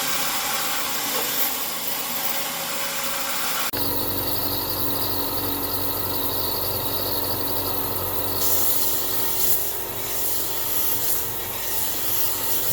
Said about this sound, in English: This is 5 times normal speed, so I'm very careful with the bandsaw. It does cut through this wood very easily